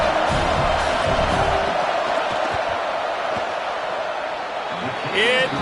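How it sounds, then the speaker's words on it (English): Loud stadium crowd roar fills a college football video game as the field goal unit lines up on fourth down, a steady dense wash of cheering and shouting with a brief whistle-like sweep near the end. "This crowd trying to do its part to get inside the kicker's head."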